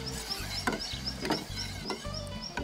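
A spoon stirring chopped chili and garlic into a dipping sauce for nems in a bowl, a close, quiet swirling scrape repeated in a steady rhythm of about four strokes.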